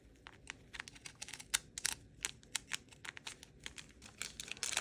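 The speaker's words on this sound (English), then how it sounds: "Also on the sole, you want to cut down this line." Scissors cutting fabric along a line on a tabi slipper sole, a series of quiet crisp snips and rustles in an irregular rhythm, close and alone.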